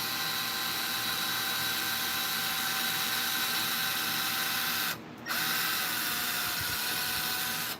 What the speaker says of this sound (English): I would just drill a hole right in here